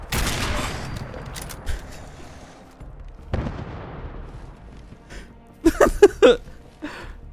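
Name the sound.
gunfire in a Fallout video game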